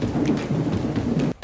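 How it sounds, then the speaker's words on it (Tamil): A heavy rainstorm pours down steadily with a low rumble of thunder and wind beneath it, dense and close throughout before dropping away briefly near the end. "போக போக பார்த்தா செம்ம மழை மட்டும் இல்லை, ஒரே காற்று இடி மின்னலுமா இருந்துச்சு."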